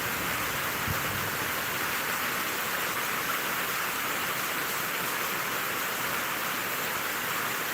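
Steady rain falls in a broad, even hiss, loud and constant throughout, with no talking.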